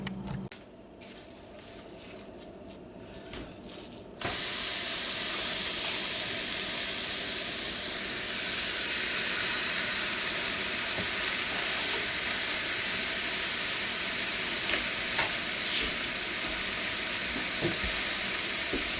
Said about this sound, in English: We'll get a nice hard sear on all sides.